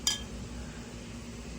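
Glasses clink once in a toast at a Christmas and New Year gathering in the Philippines, a single sharp chime near the start followed by a low steady hum of the room.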